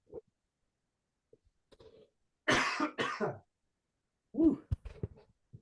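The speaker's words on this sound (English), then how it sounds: "I hope that last cough made it in" Two sharp, loud coughs break a quiet stretch, followed by a brief throaty vocal sound and a few faint clicks.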